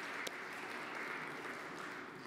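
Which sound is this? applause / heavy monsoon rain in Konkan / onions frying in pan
applause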